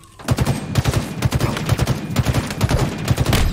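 Rapid automatic gunfire from a Halo Infinite multiplayer match, loud and continuous bursts of shots in quick rhythm filling the whole stretch, with no talk over it.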